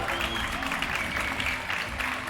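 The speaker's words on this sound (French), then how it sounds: "Applaudissements pour Fantin Farabod" An audience at an amateur scooter freestyle final applauds a rider, with dense, steady clapping throughout and some crowd noise beneath it.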